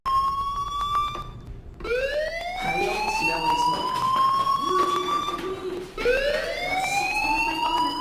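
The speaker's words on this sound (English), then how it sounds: "Hey, do you hear that fire alarm?" A fire alarm in the video game Life is Strange rings in a repeating electronic pattern, loud and continuous with rising and falling tones throughout.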